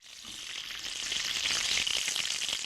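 Bacon frying in a pan makes a continuous close hiss and crackle that grows slightly louder, heard alone without any voices.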